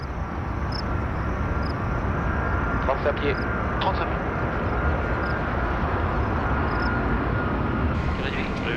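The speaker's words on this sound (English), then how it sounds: "The engineers monitor the temperature of the 3 remaining engines as they are pushed to their maximum thrust." Airbus A380 engines roar at maximum thrust as the fully loaded aircraft takes off during flight testing, a steady loud broadband rumble filling the whole span, with crew voices briefly heard over it.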